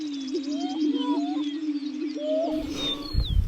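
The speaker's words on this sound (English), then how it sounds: "we heard the sound of a greater prairie chicken" A greater prairie chicken in open grassland gives a steady low, hooting moan with wavering overtones. A burst of rustling noise breaks in near the end.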